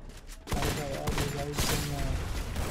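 Rapid bursts of gunfire from the mobile battle game Garena Free Fire sound close and loud, with speech mixed in.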